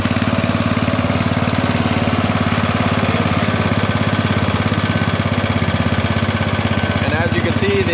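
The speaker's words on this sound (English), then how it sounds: "as you can see, the engine starts up pretty easily" Riding mower engine running at a steady, loud idle close by, with a rapid, even, throbbing beat; a voice can be heard over the engine.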